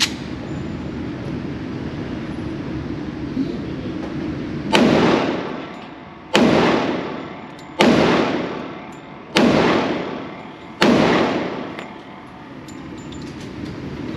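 A Smith & Wesson M&P 2.0 10mm pistol fires five loud shots of Underwood 220-grain ammunition outdoors at a steady pace, each sharp crack trailing into a long echoing decay, over a low rumbling background.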